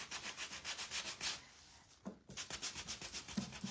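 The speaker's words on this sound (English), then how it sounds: "we're just sanding everything really quick" Rhythmic back-and-forth scraping of sandpaper on wood, a steady series of strokes with a short pause in the middle before it resumes.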